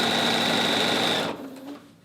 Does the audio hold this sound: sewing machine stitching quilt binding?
yes